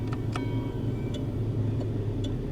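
Hazard flasher on a 1992 Dodge Dynasty ticking in a slow, steady rhythm, faint clicks spaced about a second apart over a constant low engine-like drone.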